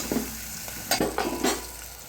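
Onions and vegetable pieces frying in a pan for Andhra sambar, a steady close sizzle broken by a few louder stirring scrapes and clatters, with no voices.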